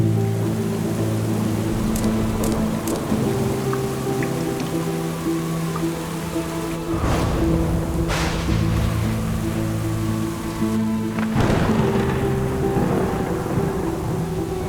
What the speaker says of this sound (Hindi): इस बारिश ने तो परेशान कर दिया है।